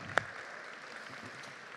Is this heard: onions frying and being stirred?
no